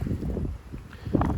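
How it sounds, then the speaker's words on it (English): Low, steady wind buffets the microphone outdoors on Corfu, a continuous rumbling gusty noise throughout. "it's way too windy to film"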